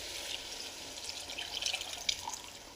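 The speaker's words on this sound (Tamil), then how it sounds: "கரைச்ச புளி வந்து ஊற்றியாச்சு" Dissolved tamarind water poured into a cooking pot of bitter turkey berry (sundakkai) kuzhambu, a steady close splashing and trickling with a few brighter drips, with no voices.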